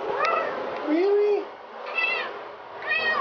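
A cat meows and whines several times in drawn-out, wavering cries, close and fairly loud, with a person's voice briefly mixed in among them.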